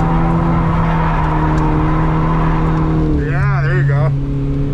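A Volvo car drifting and accelerating hard gives off a loud, close engine drone that holds steady and then rises into a wavering rev near the end, with a voice talking over it.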